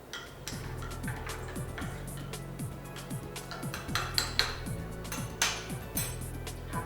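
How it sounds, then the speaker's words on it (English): A spoon stirs CBD coffee in a cup with quick, repeated metallic clinks against the sides. The clinks come in a steady rhythm and grow a little louder toward the end. "And again, one last stir."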